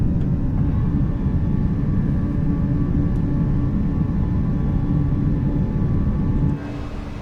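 Airbus A320 jet engines at climb thrust in MSFS 2024, flying Malta to Gatwick in stormy winds: a steady, loud broadband roar and rumble with faint tonal whine, continuous throughout and easing slightly near the end.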